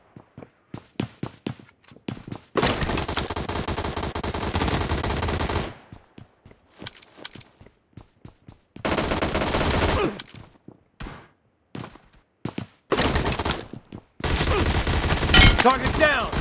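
Gunfire in the battle game BGMI comes in loud, close automatic bursts of rapid shots, broken by short gaps and single cracks, with a few long sustained volleys.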